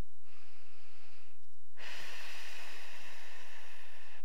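Heavy, steady breathing during a pole yoga stretching exercise, close to the mic, with a brief quieter gap before a loud sustained exhale-like hiss fills the rest of the clip.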